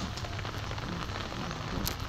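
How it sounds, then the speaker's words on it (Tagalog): Heavy rain pours down steadily near a church, a dense, constant patter on surfaces with faint scattered drops, even and moderately loud with no break. "Ulan kaayo guys."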